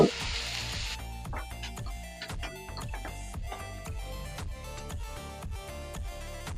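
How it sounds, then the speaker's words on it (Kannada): Beans, carrot and cabbage frying in a pan for veg fried rice, a soft sizzle under repeated scraping and clacking of a spatula in a steady rhythm. "ಬೀನ್ಸ್ ಹಿಂಗೆ ಕ್ಯಾರೆಟ್ ಹಾಕ್ತಾ ಇದ್ದೀನಿ ಲಾಸ್ಟಲ್ಲಿ ಎಲೆಕೋಸ್ ಹಾಕ್ತಾ ಇದ್ದೀನಿ ಚೆನ್ನಾಗಿ ಫ್ರೈ ಆಗ್ಬೇಕಿದೆಲ್ಲ"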